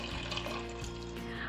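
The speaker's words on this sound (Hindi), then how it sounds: "बस इतना पानी डालेंगे कि इसके अंदर अच्छे से डूब जाए" Water is poured steadily into a pot of plums for juice, making a continuous close-up splashing, gurgling stream with no break.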